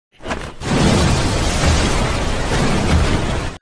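A cannon shot hits a small boat: a loud, sudden blast bursts out and rolls into a sustained, roaring rumble that fills the rest of the moment.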